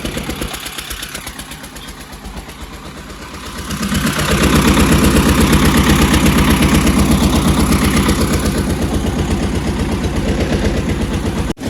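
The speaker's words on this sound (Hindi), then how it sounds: "यहाँ चल रहा है वही पंखा, इंजन चल रहा है" An engine-driven fan runs at a brick kiln, its steady mechanical drone quieter at first, then swelling louder after a few seconds and holding as a continuous rumble with no talk.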